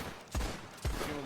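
Two sharp gunshots ring out in a Red Dead roleplay game, spaced about half a second apart, each a loud booming crack that decays quickly over a low background.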